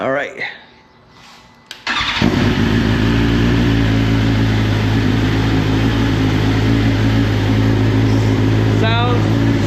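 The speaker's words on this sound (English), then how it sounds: "let's give this bike a start up" A Kawasaki Z900RS motorcycle cranks briefly, catches and settles into a loud, close, steady idle, with a short whine near the end and a voice over the start.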